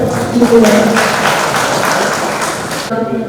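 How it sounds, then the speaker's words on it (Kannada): Crowd applause for the organising team at a job fair in Hassan, a steady wash of clapping that runs throughout, with a voice speaking over it near the start. "ಶಿವಪ್ರಸಾದ್ ಅವರ ಟೀಮ್ ತಂಡಕ್ಕೆ ಮತ್ತೊಮ್ಮೆ ಒಂದು ದೊಡ್ಡ ಚಪ್ಪಾಳೆ"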